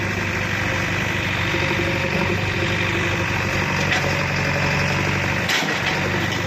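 A green JCB backhoe's diesel engine idles steadily and loudly nearby, a continuous low rumble with rattling vibration and a brief clunk near the end.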